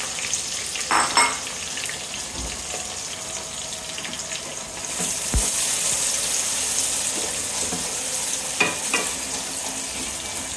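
Chopped onions fry in hot oil in a pan with whole bay leaf, cardamom and cinnamon, giving a steady, dense sizzle throughout with a few scraping stirs. Nobody speaks.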